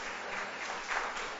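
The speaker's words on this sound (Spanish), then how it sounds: "Un aplauso al Señor" Church congregation applauding together, a dense, steady patter of many hands at low volume, heard alone without talk.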